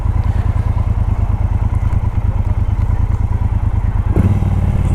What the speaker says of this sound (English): It's got a nice throaty exhaust on this bike.